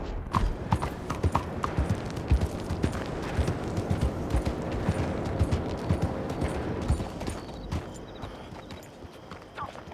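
A horse gallops in the Red Dead Redemption 2 video game, its hooves making rapid, rhythmic clip-clop thuds close up with a little scattered gunfire-like noise in the background.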